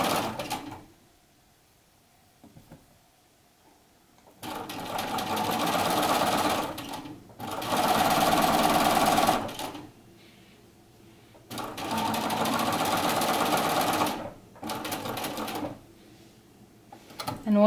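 A sewing machine stitching a set-in sleeve runs in three loud, close bursts of rapid humming and stitching, with quiet pauses and small handling clicks between them.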